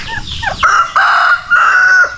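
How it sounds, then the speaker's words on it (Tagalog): A turkey calls out several times up close on a farm, with wavering, gobbling-like cries followed by long, strained sustained notes. "Cute ng ating pabo"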